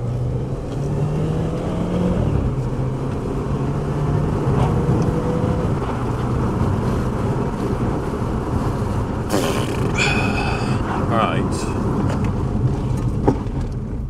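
A Renault Clio Renault Sport driven hard on the road, a steady loud engine and road roar with shifting engine tone, and a brief burst of higher mechanical noise near the end.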